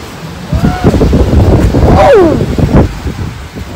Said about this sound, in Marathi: वारा बघा वारा